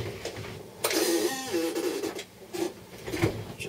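A brush sweeps over the freshly cleaned pins of a chip during Chipquik desoldering, giving a few short, scratchy, rustling strokes close up.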